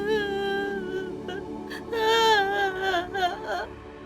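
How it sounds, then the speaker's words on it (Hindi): A girl cries inside a house, a sustained wavering wail with sobbing pitch swells that grows louder midway and breaks into shorter gasping sobs toward the end, heard up close and alone. "अंदर से रोने की आवाज क्यों आ रही है?"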